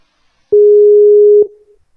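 Single telephone call tone, one clean steady beep lasting about a second, loud and close, with a short fading tail and no voices.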